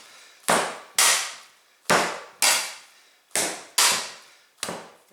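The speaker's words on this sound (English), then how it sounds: "Slam it down a few times." Cinnamon roll dough slammed down repeatedly on a work surface during hand kneading: seven sharp, loud thuds at an irregular pace, each decaying quickly, with no talking.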